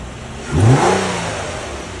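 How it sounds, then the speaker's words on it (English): A car engine idles, then revs once sharply in a quick rising burst before dropping back to a steady idle, close by. "You hear the engine sounded really good."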